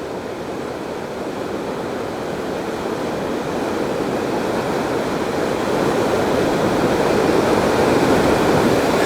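The swift Bear River in Evanston, Wyoming rushes in a loud, steady roar that swells slightly over time, with no voices.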